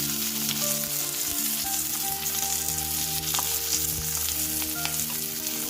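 Basa fish wrapped in banana leaf cooks in a covered pan for a Bengali dish, giving a steady, close sizzle and hiss throughout with faint clinks over a low hum, and no talking.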